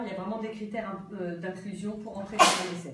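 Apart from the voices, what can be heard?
sneeze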